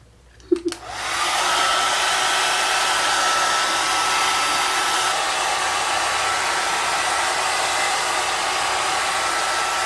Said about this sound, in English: I'm gonna finish blow drying it